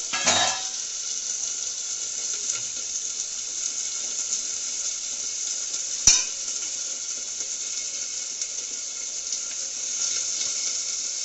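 Sugar added to a pan of frying food at home, giving a steady bright sizzling hiss that holds evenly throughout, with a single sharp clink near the middle and no talking.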